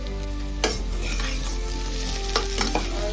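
Eggplant, potato and a little bottle gourd stirred in a frying pan, with a steady close sizzle broken by a few sharp spoon scrapes and clatters.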